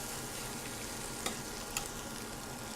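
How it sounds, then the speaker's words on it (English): Corned beef frying in its own rendered fat, a steady, dense sizzle with a couple of brief louder crackles, close and continuous with no talk. "as you're frying, the fat's going to render down and create a nice little juice in there, nice little broth"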